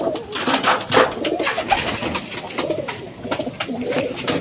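Pigeons coo repeatedly in soft, throaty bursts nearby, with rustling and scattered clicks around them.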